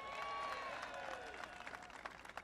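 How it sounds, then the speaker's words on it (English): Audience applause at a political speech in Miami, a dense burst of clapping and crowd noise that starts full and gradually thins out, heard faintly at a distance. "they deserve a big round of applause."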